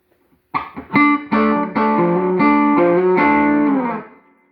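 A 1988 Eric Clapton Signature Stratocaster with a little distortion and brightened tone plays a short run of bright, sustained chords and notes, loud and close, ringing out and fading at the end.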